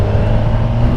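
Kawasaki Ninja 1000SX sport motorcycle pulling hard in second gear at speed, a steady loud engine drone with wind rush, continuous and close throughout.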